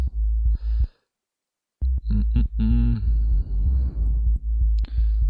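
Deep sub-bass pulses throb in short bursts, a low felt rumble with the higher tones stripped away, broken by a brief silent gap.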